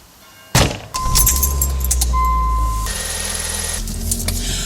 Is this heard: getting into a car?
yes